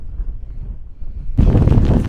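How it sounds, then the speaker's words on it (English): Wind gusts against the microphone, a low rumble that suddenly swells into a loud, roaring buffet for the final second, on the Isle of Skye, Scotland. "But it's very windy."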